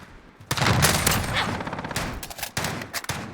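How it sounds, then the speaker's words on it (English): Video-game cluster strike: a dense, sustained barrage of overlapping explosive bursts and gunfire-like cracks, loud and close, with a few sharper impacts toward the end. "Friendly cluster strike inbound."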